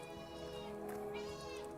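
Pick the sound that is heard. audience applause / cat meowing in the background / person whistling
cat meowing in the background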